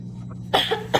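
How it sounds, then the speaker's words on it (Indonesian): A mother coughs at home, a couple of short, close, dry coughs following a near-silent pause, with a faint low hum underneath. "Kok Ibu dari tadi batuk-batuk terus sih?"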